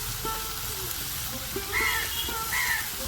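Pre-fried potatoes go into a hot pan of greens, a steady close sizzle running throughout with a few scraping stirs and faint background sounds.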